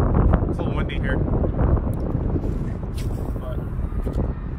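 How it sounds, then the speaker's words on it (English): Steady wind on a riverside esplanade buffets the microphone with a constant low roar and rustle throughout. "It's a little windy here"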